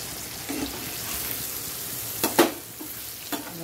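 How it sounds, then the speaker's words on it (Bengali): Potato pieces frying in oil with salt and turmeric in a home kitchen, a soft steady sizzle with a few sharp clinks of a spatula stirring against the pan, fairly quiet and close. "এবার দেখো আলুটা মোটামুটি দেখো ভাজা হয়ে এসছে।"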